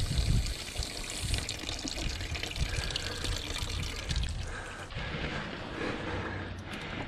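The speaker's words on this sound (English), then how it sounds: "All the old coolant successfully flushed from the system." Old coolant pours out of the cooling system of a 1998 Suzuki GSXR750 SRAD motorcycle in a steady, splashing stream that runs without a break and without any voices.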